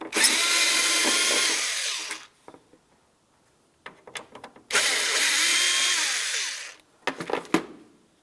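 Cordless power drill backing out the two Phillips head mounting screws of a 2000-2006 Chevrolet Tahoe tail lamp: two loud sustained whirring runs, each a couple of seconds long, separated by clicks and handling rattles, with brief bursts at the end.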